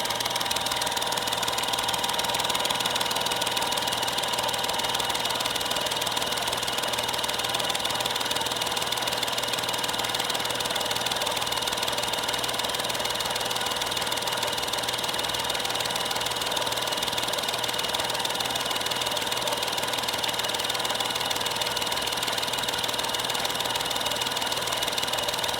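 A machine spindle turning at about 400 RPM gives a faint, steady mechanical hum with a low drone. It stays even throughout, with no voices and no distinct chip sounds.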